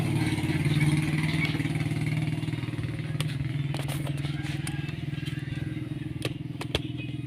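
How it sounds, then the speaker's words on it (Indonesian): A Suzuki Thunder 125 motorcycle that is hard to start is running, its engine putting out a loud, steady low chugging idle throughout. Brief sharp mechanical clicks and clatter sound near the end. "Sekarang kita coba hidupin untuk motornya, apakah bisa hidup atau tidak."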